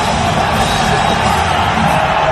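Arena crowd at UFC 295 roars and cheers as Donald Trump enters to Kid Rock's American Badass, a dense, steady wall of voices with whoops and yells, loud and continuous throughout.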